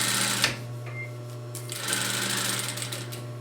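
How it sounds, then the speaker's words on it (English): Sewing machine stitching a strap onto a fabric grocery tote bag, a steady motor hum with rapid needle chatter that surges in two bursts of stitching with a brief slowdown between. "Finish sewing your strap on."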